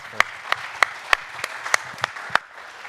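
Church audience applause heard as a steady bed of clapping with sharp, evenly spaced louder claps standing out up front, moderately loud and continuous with no talking over it.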